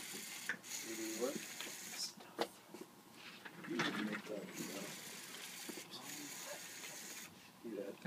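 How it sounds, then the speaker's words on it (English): Elevator motor and pulley system running, a faint ratcheting, clicking mechanical whir with occasional knocks and rattles, heard alongside some background voices. "That is the pulley system driving the elevator. And this is the elevator working."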